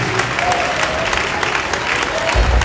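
A church congregation applauds steadily for a few seconds, a dense, moderately loud clapping from a crowd, with a voice speaking over it.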